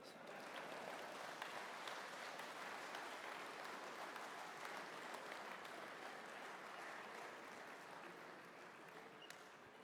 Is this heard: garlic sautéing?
no